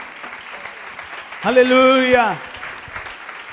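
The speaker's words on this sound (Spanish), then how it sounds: "Den un aplauso al Señor." Church congregation applauding, a busy spread of claps running underneath while a voice rises in a loud, drawn-out exclamation over the top.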